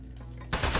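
Gunfire in the video game Aperture Desk Job, aimed at a metal robot, erupts suddenly halfway through as a loud, dense burst of shots that keeps going to the end after a quiet opening.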